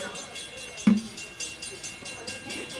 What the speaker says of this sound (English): Train is going by us right now.